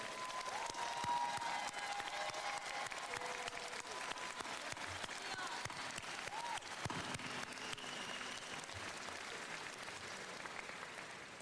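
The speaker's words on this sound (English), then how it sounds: "we give a nice round of applause to the faculty and staff" A commencement audience applauds the faculty and staff in a steady, dense wash of clapping from a large crowd that holds at an even level for the whole stretch.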